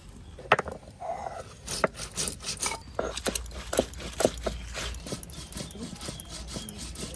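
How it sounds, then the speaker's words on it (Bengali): Cumin, coriander, dried chilli and a clove of garlic being ground by hand into a spice paste in a village kitchen: irregular scraping, rubbing strokes and knocks, close and moderately loud. "আমার জিরে ধনে আর শুকনো লঙ্কা আর এক কুয়া রসুন এটা বেটে দেবো"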